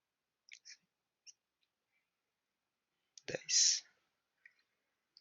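Sharp mouse clicks while working in R software during a workshop: a few isolated clicks close to the microphone, then a brief burst of handling noise and a couple more faint clicks in near silence.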